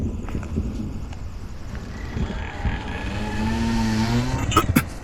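A car engine rolls past in the street, a broad vehicle roar that swells steadily and grows louder toward the end, with a brief sharp burst near the finish.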